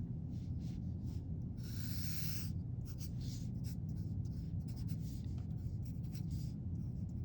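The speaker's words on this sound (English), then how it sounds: "Now I need to draw and label the line plot." Pencil scratching across paper while drawing and labelling a line plot, a steady soft rasp of close strokes with a brighter, busier stretch of scribbling early on, continuing throughout without talk.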